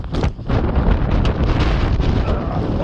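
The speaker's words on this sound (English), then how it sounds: "that wind is horrific" Strong gusts buffet the microphone at an outdoor mobile radio setup near Eastbourne, a continuous loud low rumble with rough surges, steady throughout and with no talk.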